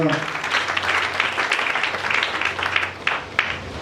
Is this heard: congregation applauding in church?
yes